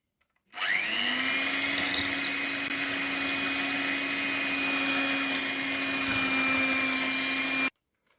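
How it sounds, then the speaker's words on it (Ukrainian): An electric mixer whisking eggs and sugar whirs steadily at a constant high pitch, starting abruptly and stopping cleanly after about seven seconds, loud and close. "збиваємо два яйця і половинку стакана"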